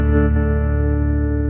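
An electric guitar played through a Line 6 POD HD500x with a modulation effect gives a sustained, loud, warbling chord with wavering tone and spring reverb, heard alone.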